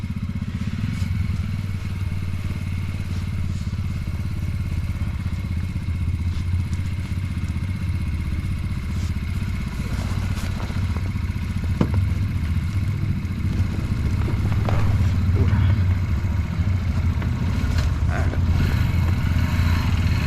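A 125cc motorcycle runs with a steady low engine rumble for about twenty seconds, with scattered clicks and thumps of handling over the continuous drone and no talking.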